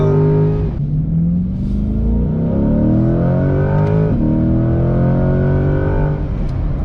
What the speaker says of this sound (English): here's a little acceleration for you guys